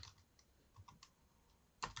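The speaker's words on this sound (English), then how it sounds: "So let's type in" A domain name being typed on a computer keyboard: soft, faint key taps in an uneven rhythm, with one sharper keystroke near the end and no talking.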